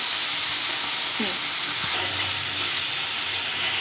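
A steady, loud sizzling hiss of spice paste frying in a hot pan, continuous throughout.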